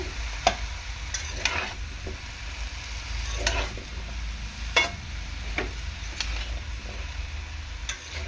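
Malabar spinach being stirred with pumpkin and potato in a hot pan, a soft steady sizzle with intermittent scraping strokes of the spatula close by, no talking.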